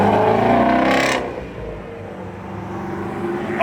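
A Mercedes S65 AMG with a V12 roars hard as it accelerates past, loud and close at first and then fading to a steady lower drone as it pulls away.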